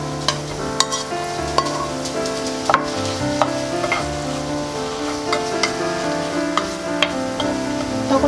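Rice cakes and shiitake mushrooms stir-frying in soy sauce for royal tteokbokki, a steady close sizzle with occasional scraping stirs, under background music with no speech.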